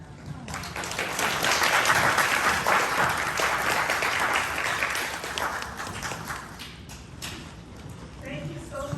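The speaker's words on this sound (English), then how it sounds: "Another round of applause for Cameron." Audience applause for a graduate at a ceremony, a swell of many hands clapping that builds loudly, holds for several seconds, then tapers off toward the end.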